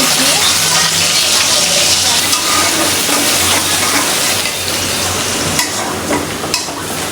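Chopped onion hitting hot oil in a pan for an okra fry, a loud, dense, continuous sizzle and crackle with occasional stirring scrapes, close and steady throughout.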